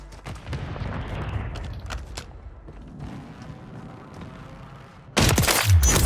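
Gunfire and a grenade blast in Call of Duty: Warzone: scattered rapid gunshots and low rumble through most of the clip, then a sudden loud, broadband explosion near the end with a heavy low thump.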